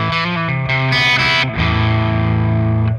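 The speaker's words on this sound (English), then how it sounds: "Now we have got reverb." Heavily distorted metal guitar chords played through an ENGL E860 rack preamp with reverb, loud and thick, several sustained chords changing quickly then ringing out with a reverb tail, no talking.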